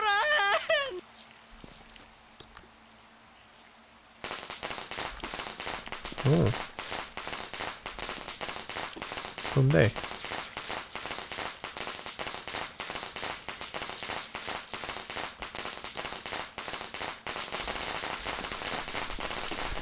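Firecrackers going off in the Korean horror game Shadow Corridor, a dense crackling burst of rapid pops that runs on for many seconds after a quiet start, with brief talk and game sounds mixed in.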